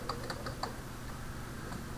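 Keys on a computer keyboard are tapped while a Windows command-line command is typed, giving a short run of light, fairly faint clicks at an uneven pace over steady background noise.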